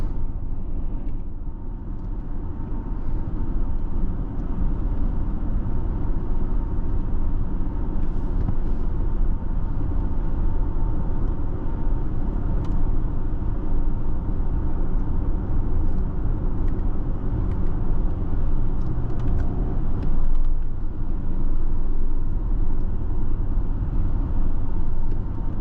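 Interior cabin sound of a 2019 Audi Q8 3.0T Prestige Quattro on the move: a steady low road and engine drone with tire hum that holds for the whole stretch, with no talking.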